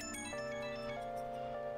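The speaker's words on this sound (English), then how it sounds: "That was his phone, by the way." Phone ringtone from Persona 5 Royal, a steady electronic melodic tone with layered sustained notes over a soft game music bed, repeating through the short stretch.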